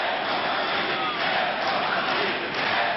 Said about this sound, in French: C'est sous les huées des délégués du Congrès qui crient démocratie que Louis Mermaz annonce à la tribune